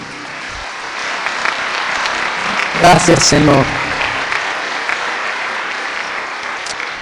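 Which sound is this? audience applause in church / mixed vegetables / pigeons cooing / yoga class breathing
audience applause in church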